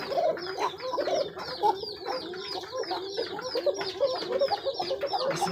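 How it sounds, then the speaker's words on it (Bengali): Pigeons at a pigeon farm give a busy, continuous run of throaty calls, several birds overlapping close by with no talking. "কোকার ডাক কাকে বলে দেখেন"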